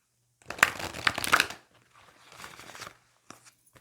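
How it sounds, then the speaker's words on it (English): Tarot cards from an Alana Fairchild deck being shuffled up close: a loud riffling burst, a softer second pass, then a couple of brief card taps, with no talking. "One more shuffle."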